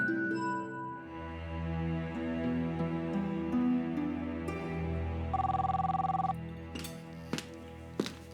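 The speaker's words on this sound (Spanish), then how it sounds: "¿qué no escuchan el teléfono?" An electronic telephone ring sounds in a steady trilling burst over background music in a telenovela scene, followed by a few sharp clicks.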